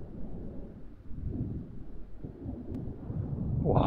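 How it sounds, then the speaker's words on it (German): A thunderstorm in the video game The Sims 4, with a low, rolling rumble of thunder that swells toward the end, heard alone at moderate volume. "Boah, Gewitter, krass."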